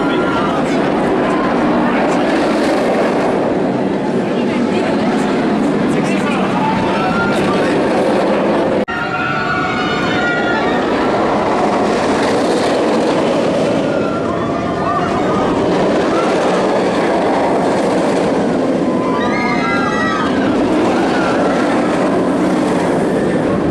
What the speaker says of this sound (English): let's go for a ride on this B&M sit-down coaster, an original attraction for the park